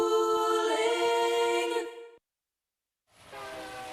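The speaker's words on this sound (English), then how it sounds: "Trains are coming to Madison, in miniature that is" Train horn and rolling train sounds from an advert for a model railroad show, a loud sustained horn blast that cuts off into silence, then rail noise resumes.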